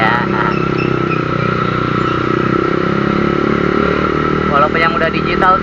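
A Honda CBR 150 CBU motorcycle engine runs steadily with its throttle blipped, a loud close idle rising into a short rev near the end.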